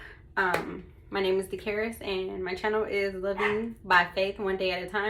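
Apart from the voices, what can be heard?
dogs barking in the background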